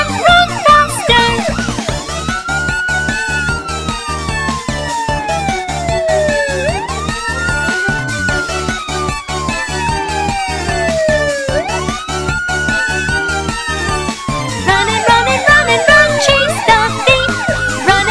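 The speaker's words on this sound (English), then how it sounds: "Police car!" A cartoon police car siren wails in repeated rising and falling sweeps, loud and steady over bright children's music.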